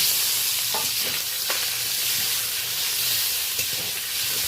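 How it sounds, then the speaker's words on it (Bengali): Tengra fish fry in oil in a wok, a loud, steady hissing sizzle with occasional spits and pops and a low rumble under it, broken by a few sharper crackles. "এবার মাছগুলো আমি ভাজার জন্য কড়াইতে তুলে দেব।"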